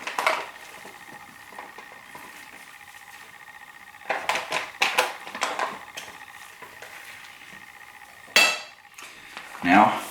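Spoon scraping and clinking as a backpacking chicken curry meal is served onto a plate, several bursts of scraping and a sharper clink, fairly close with quiet gaps between.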